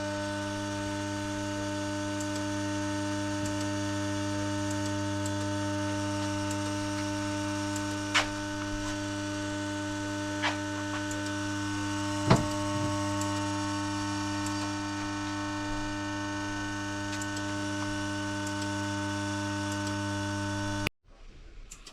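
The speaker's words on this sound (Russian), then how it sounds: "Вот так работает наш прибор теперь в автоматическом режиме." A car air conditioning refrigerant charging machine running in automatic mode during service of a Honda Vezel, giving a steady electrical hum with a few sharp ticks before it cuts off at the end.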